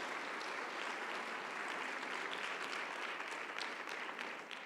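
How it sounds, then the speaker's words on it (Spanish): Congregation applause at a Sunday church service, a steady wash of many hands clapping at moderate distance, holding even throughout and tapering slightly at the end. "¿No le dan un aplauso al Señor por esto?"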